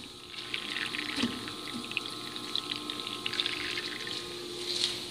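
Flood coolant on a Bridgeport Series 1 CNC mill flows in a steady, soft liquid trickle and splash with faint spattering, under a low continuous machine hum, no one speaking.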